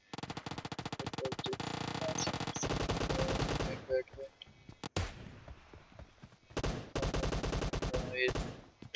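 Gunfire in a PUBG Mobile Team Deathmatch: loud, rapid automatic bursts in long strings, broken by short pauses, with scattered single shots and bursts near the end.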